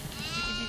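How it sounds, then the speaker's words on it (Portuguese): A goat bleats in the horror video game Devour, a single short wavering bleat that rises and holds briefly, fairly clear over a faint low background. "Tem bode aqui!"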